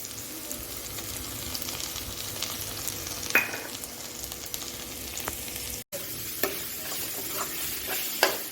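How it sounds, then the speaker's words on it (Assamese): Ginger garlic paste frying in oil in a pan for chicken curry, a steady close sizzle with occasional stirring scrapes and a brief dropout midway. "এইখিনিত আমি আদা নহৰু পেষ্টখিনি দি দিম।"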